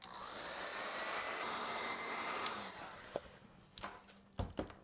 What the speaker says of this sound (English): But I'm also going to hit it with my hairdryer here real quick.